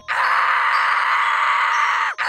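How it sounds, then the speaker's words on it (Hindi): A cartoon character screams in a horror-comedy cartoon scene with an evil nun, one loud, sustained, high-pitched cry lasting about two seconds and ending with a sharp drop. "अरे ये तो केविन के चिल्लाने की आवाज है"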